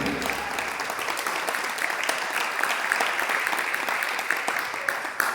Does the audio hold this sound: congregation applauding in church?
yes